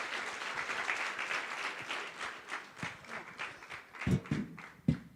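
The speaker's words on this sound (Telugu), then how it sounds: "Give a big clap offering to God." A church congregation claps in a fast, irregular patter that tapers off, with a few louder claps near the end.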